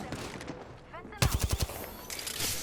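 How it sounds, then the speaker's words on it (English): Video game gunfire crackles in a rapid burst of several close, sharp automatic shots, preceded by softer game noise and a brief whooshing effect. "I'm under fire."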